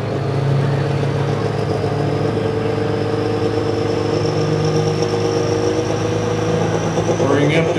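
A diesel 4x4 pulling truck at a Columbus, Texas truck pull holds a steady, loud engine drone, building turbo boost with a rising whistle near the end, while people talk over it.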